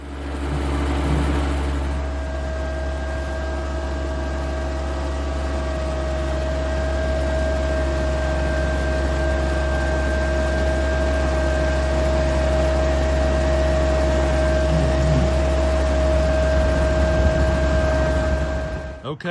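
A pickup truck's engine runs steadily as the truck pushes a car back out of a parking spot with its hitch ball, a constant low drone with a faint whine, close and unbroken throughout.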